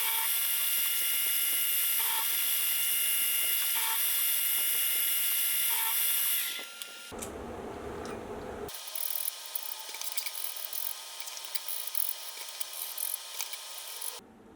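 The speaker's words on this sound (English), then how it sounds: "I'll start to machine in the clearance behind the cutting edge." Lathe or milling cutting of clearance behind the cutting edge of a homemade fluted cutter, a loud steady high-pitched machining whine for about seven seconds, then a brief low rumble, followed by a thinner continuous cutting hiss with small ticks.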